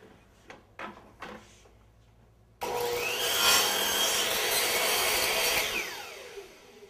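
A hand saw cuts a straight 90-degree angle through wooden door casing, a steady rasping stroke that runs loud for about three seconds after a few light taps and clicks.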